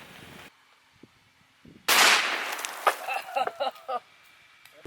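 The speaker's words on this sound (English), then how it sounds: "now that same bottle versus the live 55 grain soft point bullet" A single sharp, loud rifle shot fires a live 55 grain soft point bullet at a bottle, followed by a few scattered clattering impacts as the sound dies down.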